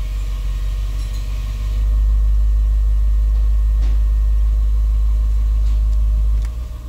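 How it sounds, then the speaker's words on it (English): A 2011 Range Rover engine running after start-up, a steady deep low rumble that swells slightly and holds, close and loud with no voices. "Let me start it now, push the brake. Crank it."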